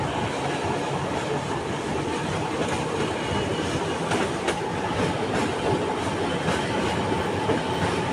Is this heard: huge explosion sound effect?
no